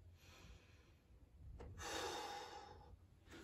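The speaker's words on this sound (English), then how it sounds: "And then you're just breathing in, inhaling and exhaling." A person breathes in and out while holding a glute exercise on all fours, a quiet sharp inhale followed by a longer, louder breathy exhale, close to the microphone and alone.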